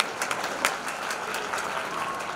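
Audience applause at a community talent felicitation ceremony, a dense, steady wash of many hands clapping throughout with a faint voice underneath.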